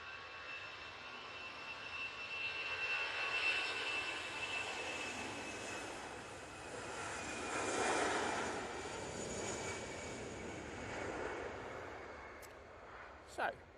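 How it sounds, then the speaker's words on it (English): An Aer Lingus Airbus A320 jet departing Manchester Airport roars steadily at a distance, its broad engine rumble swelling and fading as it climbs away, with a brief click near the end. "lovely Aer Lingus A320 going off back to Dublin."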